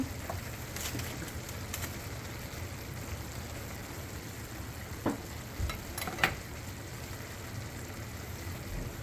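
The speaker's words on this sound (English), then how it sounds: "Gonna add a little bit of cauliflower." Cauliflower dropped into a full pan of ground turkey, giving a steady low frying sizzle with occasional stirring clicks and scrapes near the end.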